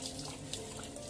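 Water from a tap running steadily onto a vintage Vogue Baby Dear doll by Eloise Wilkin as it is washed in a sink, a quiet, continuous hiss and splash heard close and alone.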